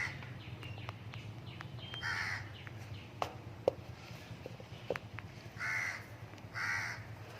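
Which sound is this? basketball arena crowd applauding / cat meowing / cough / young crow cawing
young crow cawing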